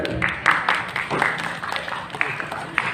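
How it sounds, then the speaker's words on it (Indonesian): Audience applause at an Islamic talk, a brief patter of claps from a crowd under a speaking voice. "Masya Allah, tepuk tangan."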